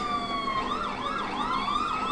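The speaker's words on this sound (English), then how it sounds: "Now, with these, you have 2 sets of sirens." A police siren in the LSPDFR police game wails steadily with rising and falling sweeps, loud and continuous throughout, with no talking.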